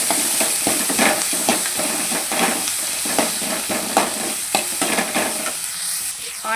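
Onions sautéing in a pan with rock salt for a dhaba-style palak egg dish, with a loud steady sizzle and rhythmic scraping strokes of a spatula stirring throughout.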